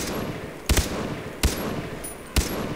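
Three sharp gunshots from the video game Far Cry 3 ring out about a second apart, loud and close, over a steady background rumble.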